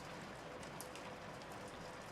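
Rain falls steadily in Shadows over Loathing, a soft, even hiss with faint scattered drop patters and no voices.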